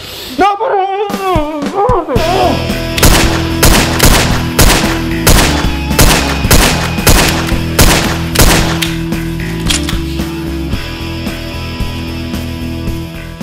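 Rapid bursts of gunfire crack out in a steady volley, loud and close, with sharp repeated shots over about ten seconds after a brief vocal cry at the start.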